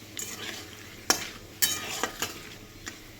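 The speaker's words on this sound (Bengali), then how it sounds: "ফোড়নটা একটু লাল লাল করে ভাজা হয়ে যাবে" Whole tempering spices frying in oil in a wok for Bengali khichdi, a soft sizzle broken by several sharp spatula scrapes and clinks as they are stirred, no talk.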